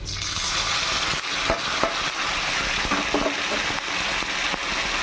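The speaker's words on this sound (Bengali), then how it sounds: "এবার এটাকে ভালো করে ভেজে নেব" Onions fry with a spice paste of cumin, chili, ginger and garlic, giving a continuous close sizzle with occasional stirring scrapes and clinks in the pan.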